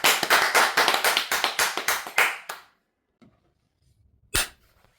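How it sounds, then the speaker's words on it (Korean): Studio audience applause closing a Korean talk broadcast, a dense burst of close clapping for about two seconds that fades out, followed by near silence and one sharp thump. "다시 한번 감사의 박수를 보내면서 오늘 방송 마무리하겠습니다"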